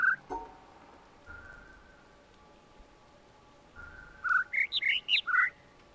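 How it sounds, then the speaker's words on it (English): A synthetic bird song sequence from the puzzle game The Witness: a single chirp, then a quick run of five or six bright, high tweets near the end, fairly loud over a quiet background. "I need to listen to the other bird."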